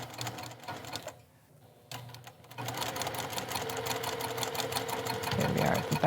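Sewing machine stitching a neckline at a 2.5 stitch length: a few stop-start bursts, then a steady close run of rapid needle clatter that grows louder toward the end.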